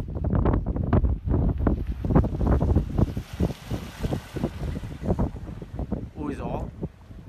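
Strong wind on the summit of Mẫu Sơn mountain in Lạng Sơn, Vietnam, roars and buffets the microphone in continuous gusts while someone talks through it.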